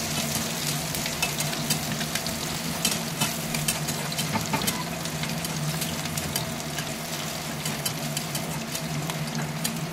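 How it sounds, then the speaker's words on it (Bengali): Onion and garlic fry in hot oil until reddish-brown for a greens stir-fry, giving a constant close sizzle broken by occasional scrapes of stirring. "তেলের উপর পেঁয়াজ রসুন দিলাম। পেঁয়াজ রসুনটা লাল লাল করে ভাজছি।"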